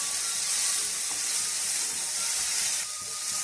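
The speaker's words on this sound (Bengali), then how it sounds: "এইভাবে আমি আবারও প্রায় 2 মিনিট নাড়াচাড়া করে সব কিছুকে ভেজে নেব।" Chopped beans, carrots, ripe tomato and peas sizzle and fry in a pan, a steady bright hiss with faint stirring, holding evenly for a few seconds with a slight dip near the end.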